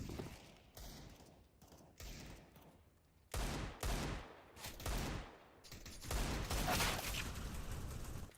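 Rifle gunfire in a video game, a series of sharp shots in separate bursts, growing louder and denser toward the end, with brief gaps of near silence between them.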